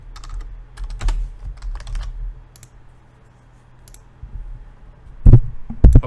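Computer keyboard typing, a few scattered light keystroke clicks early on, then a couple of louder, heavier key strikes near the end, close and alone against a quiet background.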